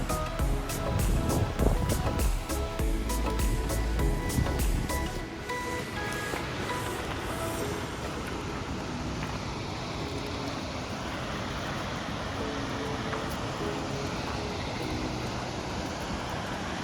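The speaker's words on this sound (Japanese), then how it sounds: "この橋を降りたところが滝になります。" Rushing water from Akiu Otaki waterfall on a summer walk, a steady loud broadband roar that fills the whole scene, with a rattling, clicking sound in the first few seconds before the constant wash settles in alone.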